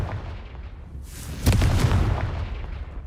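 In Hogwarts Legacy, a Confringo blasting spell swells in with a rushing whoosh and then a heavy explosive boom that rumbles and slowly fades, loud and alone.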